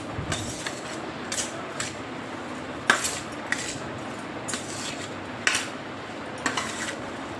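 Spoon scraping and clinking in a bowl while sandwich filling is mixed with cheese, a soft steady scrape with about a dozen light metallic taps spaced irregularly, close and fairly quiet, no talking.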